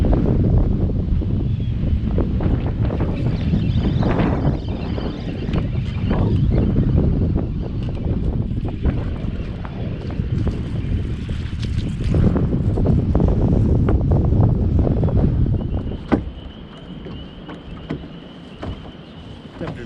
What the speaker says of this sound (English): Wind's also changing a little bit.